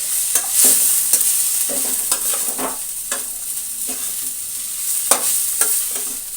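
Poha is tipped into a hot pan over a slow flame and stirred, with sharp, irregular spatula scrapes and clicks over a constant low sizzle, close and fairly loud.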